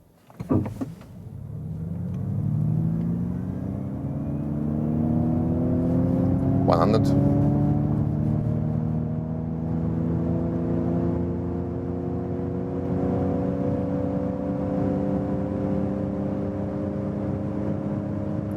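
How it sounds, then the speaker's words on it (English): Ford Mustang Mach-E electric car pulling away hard in Untamed mode: a rising electric whine with several climbing tones sweeps up and holds steady over a low road rumble, heard from inside the cabin. "let's do the acceleration here in the untamed mode"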